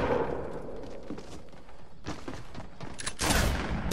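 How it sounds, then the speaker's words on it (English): Gunfire in the Fortnite video game, including a sniper rifle shot: sharp, loud blasts ring out, with the strongest burst near the end over ongoing game noise. "he sniped me from 100 meters"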